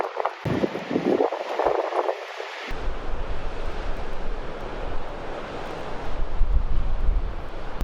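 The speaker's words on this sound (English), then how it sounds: "Well guys, it certainly is windy." Strong winter wind by the sea buffets the microphone in loud gusts at first, then settles into a continuous roaring rush mixed with surf, close and without pause.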